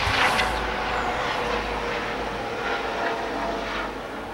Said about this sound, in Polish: No i znowu helikopter leciał.